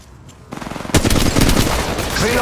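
Gunfire in the mobile game Apex Legends Mobile rattles loud and close, rapid automatic bursts starting half a second in and continuing densely, with a heavier burst near the one-second mark.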